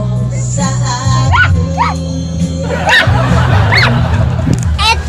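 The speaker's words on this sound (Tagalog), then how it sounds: "So, ayan ba yung aso ko?" A dog barks and yips a few times, sharp and close, over steady background noise and a low hum, with people talking nearby.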